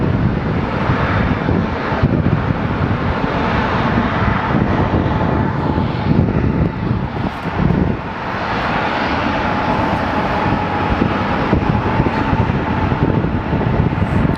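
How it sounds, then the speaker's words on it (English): A SkyWest regional jet, flight 4944 from Pasco, Washington, comes in to land at Phoenix Sky Harbor Airport, its engine roar loud and sustained under heavy wind noise from a stormy sky. "So let's give you a full view of the plane coming in."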